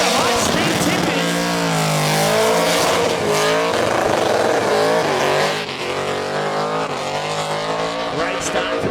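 A race car's engine roars at high revs during a high-speed skid competition run, with screeching tires and a continuous loud, wavering drone; voices talk over it.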